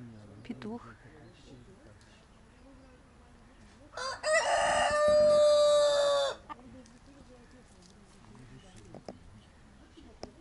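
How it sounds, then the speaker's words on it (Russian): A rooster crows once, loud and close, for about two seconds, in an orange grove in a Turkish village near Alanya, amid quiet outdoor background with occasional soft noises. "Петухи в апельсинах."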